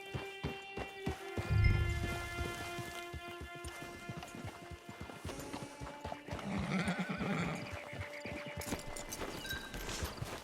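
Horse in Red Dead Redemption 2 Online whinnies loudly near camp, with clip-clop hooves thudding irregularly throughout and a second neigh later, set against faint ambient game music tones.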